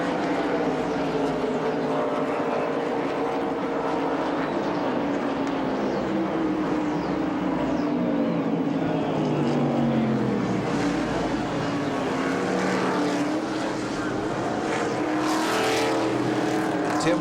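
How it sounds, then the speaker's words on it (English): Field of 1987 NASCAR Winston Cup stock cars racing on track at the Budweiser 400, a steady, loud, continuous engine roar from the pack throughout, with no talk over it. "Parsons trying to hold back Bill Elliott and then Ricky Rudd"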